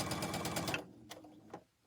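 A sewing machine runs a quilt block seam in one close, fast rattling burst of stitching, then stops, leaving a few faint clicks and handling noises.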